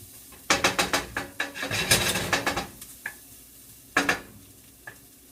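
Garlic for chicken fried rice is stirred in a pan, with a series of sharp scraping, clattering strokes over a soft sizzle, pausing briefly before a few more scrapes.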